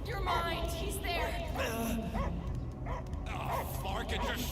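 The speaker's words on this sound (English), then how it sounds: "I hear only barking" Dog barking and yipping in the Guardians of the Galaxy video game, with short bow-wow calls and whimpers running under busy game music and effects while voices talk over it.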